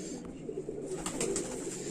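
A champion racing pigeon coos softly at close range, low murmuring calls over faint background noise with brief higher-pitched sounds near the end.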